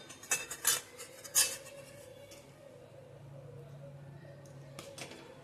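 Cooked bhagar, a millet dish, is served onto a plate, with a few sharp metallic clinks of a spoon against dishware up front, then a quiet scraping and faint rustle, all fairly soft and close.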